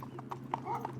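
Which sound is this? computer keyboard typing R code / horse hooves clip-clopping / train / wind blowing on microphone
horse hooves clip-clopping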